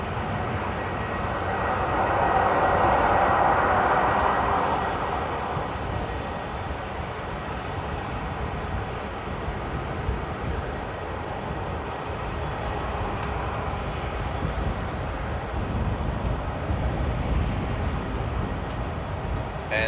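Austrian-registered Airbus A319-100 airliner at Amsterdam airport, a broad distant engine roar that swells early, then settles into a steady rumbling wash with no talk.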